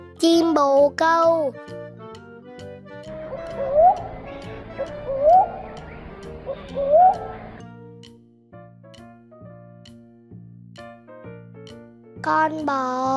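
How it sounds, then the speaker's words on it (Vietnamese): A pigeon coos in a children's song about farm animals, giving three soft, rolling coos a second or so apart over gentle background music. Children's voices are heard briefly before and after. "Chim bồ câu."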